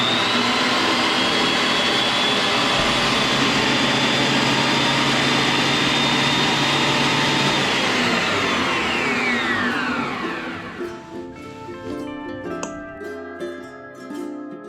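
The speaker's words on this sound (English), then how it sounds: "I give the planer a little test to make sure everything is working right" A Shop Fox W1877 planer runs after a gearbox repair with a loud, steady roaring whir, then its motor winds down and the sound fades to lighter clatter and faint room noise.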